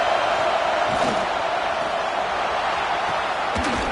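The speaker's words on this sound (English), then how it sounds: "This crowd bringing the energy and noise early." Steady roar of a stadium crowd in an NCAA college football video game, a dense continuous wash of noise with a faint voice or two beneath it.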